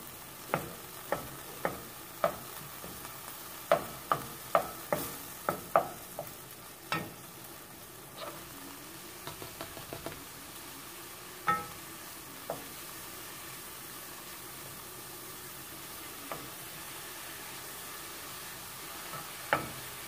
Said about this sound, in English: see if I can get away with adding the mushrooms on the empty side to attempt to get browning on the mushroom